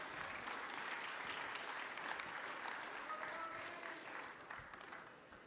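A conference crowd at Bitcoin Vegas 2025 claps steadily for several seconds, the applause slowly thinning toward the end.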